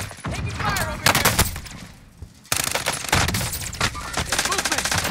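Rapid gunfire bursts from Call of Duty: Warzone in Verdansk Resurgence, loud and dense, with sharp repeated shots crowding the clip, a brief lull midway, then sustained firing under in-game voice chatter.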